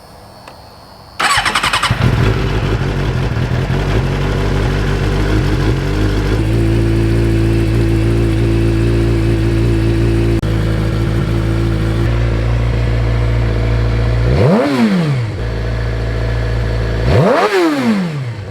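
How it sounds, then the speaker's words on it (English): An engine cranks, catches and settles into a loud, steady idle close by. Two brief revs swell and fade near the end. "we're just going to start her up and let her idle for a little bit"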